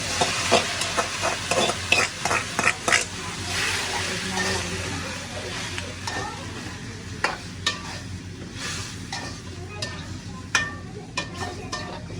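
Onion and green chillies sautéing in a pan, stirred with repeated scraping strokes in quick bursts over a constant frying sizzle, the strokes loud and near, pausing midway before resuming.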